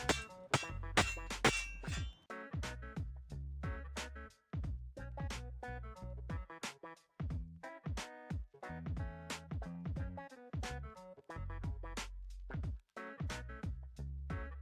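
Sharp metallic clangs and knocks ring out in quick irregular bursts as a hard object strikes a Mazda 323F engine-to-gearbox adapter plate over and over to knock it clean, close by.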